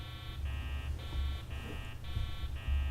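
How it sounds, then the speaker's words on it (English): A mech alarm in Garry's Mod pulses in repeated electronic buzzing beeps, about six on-off cycles in an even rhythm, over a low steady hum with no voices. "so now I re-enable the alarm"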